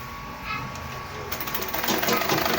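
A sewing machine stitches the corner of a single welt pocket, starting as a faint whir, then running in a quicker, denser burst of needle strokes toward the end, fairly close.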